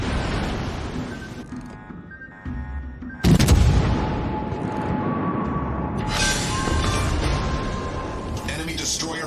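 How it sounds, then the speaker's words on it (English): An enemy destroyer explodes in the naval video game World of Warships Legends, with a sharp boom cutting through steady engine rumble and gunfire before a rising roar, while voice callouts play over it. "Enemy destroyer blown up."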